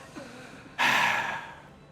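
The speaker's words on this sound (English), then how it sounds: "You gasp" A character in Warhammer 40k: Rogue Trader lets out one sharp, close gasp that swells suddenly and then trails off into a fading, breathy exhale.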